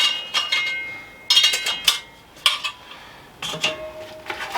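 Metal basket and main pot of a Ninja Foodi MAX 9-in-1 pressure cooker clink and clatter as they are handled, in several separate bright knocks and scrapes with short pauses between.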